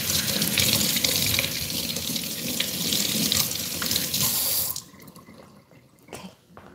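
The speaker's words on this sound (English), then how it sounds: "I'm going to wash my hand" Running water from a sink tap splashes steadily over hands being washed, a continuous loud rush that cuts off near the end, leaving faint drips and small kitchen sounds.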